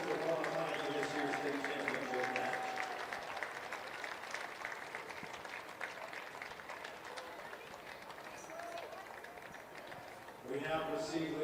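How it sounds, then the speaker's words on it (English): A stadium crowd at a boys high school soccer final at America First Field applauds both teams before the trophy presentation, a steady broad wash of distant clapping and cheering that continues throughout, with a public-address voice at the start and end. "Giving a round of applause to both sides as we get ready for the trophy presentations here at America First Field."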